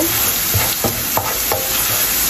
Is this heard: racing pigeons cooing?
no